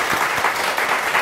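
Audience applause at a violin concert, a dense steady patter of many hands clapping at moderate volume, with no voices standing out.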